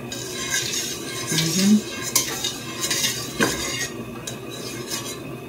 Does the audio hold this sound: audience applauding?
no